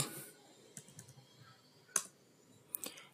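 A few sparse computer keyboard key taps as a short part name is typed in pattern-making software, quiet and close, with long pauses between the clicks and no voices.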